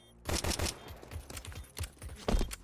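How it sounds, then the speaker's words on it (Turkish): Counter-Strike gunfire: several close, loud bursts of rapid automatic shots come in quick clusters with short gaps between them, standing alone without talk. "50 mermi attım"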